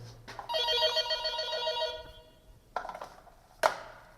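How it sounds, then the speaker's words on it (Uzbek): An intercom-style telephone rings once with a sustained melodic tone for about a second and a half, followed by a couple of short sharp clicks and knocks in a quiet room; no voices. "Telefon keldi? Telefon keldi,"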